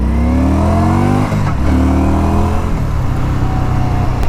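An Indian Scout Sixty motorcycle engine revs loud and close, rising and falling through several throttle blips with a brief dip midway, then a steady rumbling hold.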